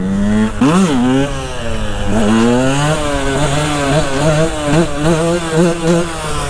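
A Husqvarna TE125 two-stroke 125cc motorcycle engine idles and revs repeatedly, pitch rising and falling in quick bursts, loud and close.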